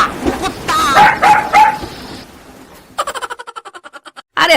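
A voice imitates a dog in a cartoon, barking in a quick run of about a dozen short, even yaps. Talk comes first, then the barks sound close and alone.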